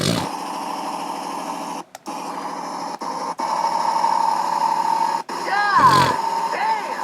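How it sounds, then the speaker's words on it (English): A 1969 Ford Torino's supercharged engine runs loud and close with a rough, steady drone, briefly cut out twice, then a quick rev near the end, under scattered talk. "This thing sounds like it's got a serious supercharger"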